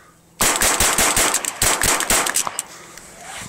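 A gun fires a short magazine of Mini Mag rounds, a rapid string of about eight sharp, loud, closely spaced shots in two quick bursts, then a fading ring outdoors.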